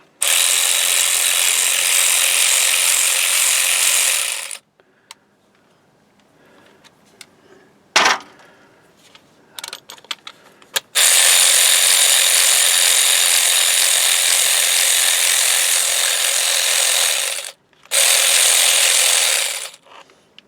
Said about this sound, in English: Alright, now I'm taking out the flange, the last two bolts.